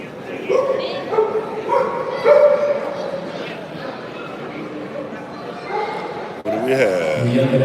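Dogs yip, whimper and bark at a Presa Canario breed show in Tenerife, Canary Islands, heard at moderate distance amid steady crowd chatter, with a louder burst of voices and activity near the end.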